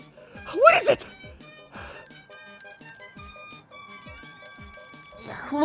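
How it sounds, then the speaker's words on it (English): In a Super Mario video game, a voice exclaims at first, then clear ringing bell tones sustain and overlap over light knocks and taps, fairly close. "It's some sort of bell thing."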